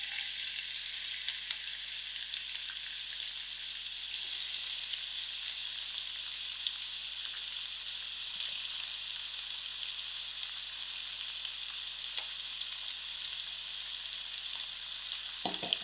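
Onions frying in half a cup of hot oil, a steady close hiss and crackle of sizzling that carries on evenly without pause, with a low constant hum beneath.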